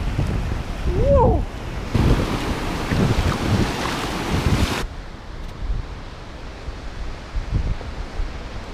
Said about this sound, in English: And there's a beach right there.